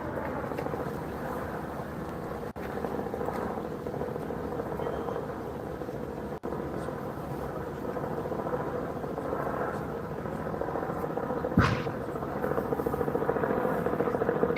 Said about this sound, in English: We have a chopper circling. Literally circling over the house.